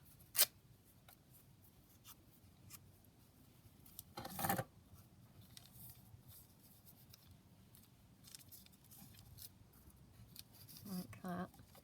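Scissors snip paper for a collage with a paper bag pocket and envelope pocket, giving a few faint, close cuts and light paper rustles in a quiet room.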